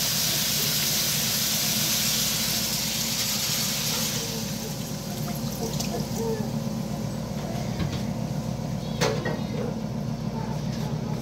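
Water hits a hot pan holding lechon adobo sauce, setting off a loud, steady steaming sizzle that starts strong and settles into a continuous hiss with a few faint clinks over roughly eleven seconds.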